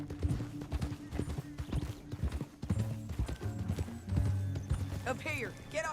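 Horse hooves clip-clop at a steady riding rhythm over rocky ground in Red Dead Redemption 2, close and fairly loud, mixed with game sounds and a brief whinny, while someone talks over it.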